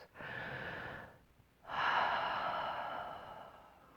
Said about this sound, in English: let's take a couple relaxed breaths, calm and center ourselves.